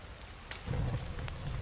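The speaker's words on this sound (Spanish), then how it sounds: "es que la lluvia también nos está liando muchísimo el asunto" Steady rain falling in the survival video game The Forest, a soft continuous hiss with a low rumble swelling midway, playing alone without any voices.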